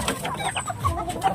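Chickens cluck and murmur together in a coop at night as they wait to be fed, a busy, close chorus of short overlapping calls.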